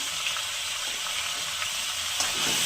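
Spiced vegetables with chilli and turmeric frying in a pan for chal kumra ghonto, a steady close hiss and sizzle throughout with faint stirring taps and no talk.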